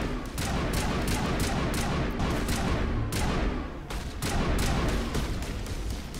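Rapid gunfire in Mass Effect on Virmire, a steady barrage of sharp, closely spaced shots rattling for about six seconds with a brief lull near the four-second mark, loud and up front with no speech.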